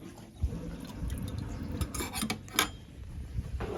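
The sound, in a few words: sink draining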